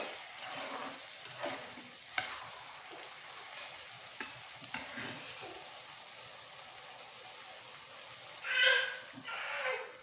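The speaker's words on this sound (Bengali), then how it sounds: "ভালো করে নেড়ে নিচ্ছি। সবজিটা ভালো করে এই যে কষিয়ে নেওয়া হয়ে গিয়েছে।" Vegetables being stirred and fried in a pan while cooking a mixed river-fish broth, with a steady soft sizzle, scattered scraping clicks of the spoon, and a brief louder hiss near the end.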